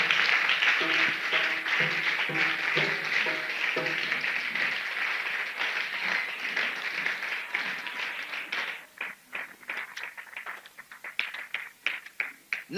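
Church congregation clapping in praise, a steady applause that thins toward the end into scattered individual claps, with faint voices beneath.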